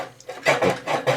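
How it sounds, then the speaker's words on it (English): Blade of a Craftsman push mower rattling and scraping against the metal table stand holding the machine up, a close, uneven series of clattering, rasping bursts in short repeated pulses. "That noise you hear is the blade underneath on the table, the stand that's holding the machine up."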